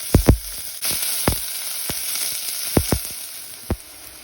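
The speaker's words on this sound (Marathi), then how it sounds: "हांव आतां कारी पत्ता घालता आनी तेचो पियाव घालया" Curry leaves and onion fry in a hot pan for Goan tendli bhaji, a bright steady sizzle broken by several sharp pops and crackles close up, with no voices.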